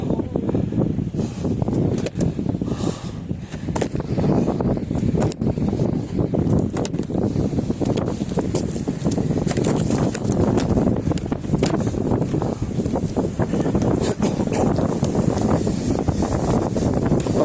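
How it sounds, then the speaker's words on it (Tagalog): Strong, gusty wind battering the microphone while fishing from the shore in Bahrain, a loud continuous roar with flapping buffets, mixed with faint rustling and occasional voices. "Lakas ng hangin mga amigo oh."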